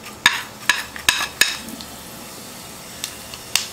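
Cumin seeds dropped into hot ghee in a kadai, giving a cluster of sharp crackles and pops early on, then a softer sizzle with a few scattered pops, no talking.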